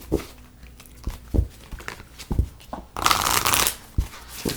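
Tarot cards shuffled by hand in a series of soft riffling bursts and taps, close and fairly quiet, with a longer, brighter flurry near the end.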